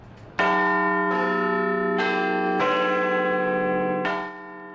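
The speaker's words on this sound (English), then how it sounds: "That's one of the most iconic sounds in Europe, the Big Ben bell ringing in London." The Big Ben bell in London rings out in a series of deep, resonant strikes, roughly one per second, each long sustained tone overlapping the next before the last one decays.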